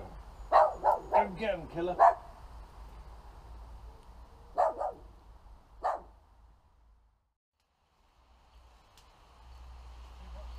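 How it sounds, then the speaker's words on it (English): A noisy dog barks in bursts of several sharp yips and woofs at a homestead campsite, close and loud, with people talking around it before it falls quiet. "A noisy dog."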